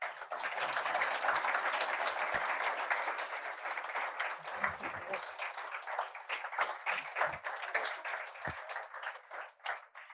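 A crowd applauds steadily for about ten seconds, dense clapping that thins slightly toward the end, with a few louder individual claps.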